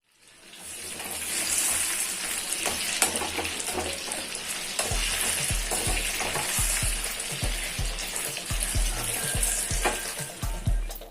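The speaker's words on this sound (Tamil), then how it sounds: "சிக்கனை எண்ணெயில் போட்ட பிறகு உடனே நம்ம திருப்பி விடக்கூடாது." Chicken 65 pieces frying in hot oil, with a steady dense sizzle and crackle close by and soft low knocks from the pan recurring through the second half.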